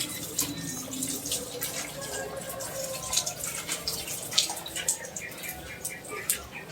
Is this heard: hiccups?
no